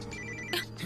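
A telephone ringtone chirps in short electronic tones at moderate volume, over a low background hum.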